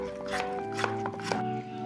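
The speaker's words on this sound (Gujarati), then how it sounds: "વધારે દૂધની જરૂર પડશે તો આપણે દૂધ નાખશું ફરીથી અને ખૂબ આપણે આવી રીતે ફેટી લેવાનું છે" Chocolate cake batter with milk beaten by hand in a bowl, a close series of quick clinking, tapping strokes in an uneven rhythm, with no voices.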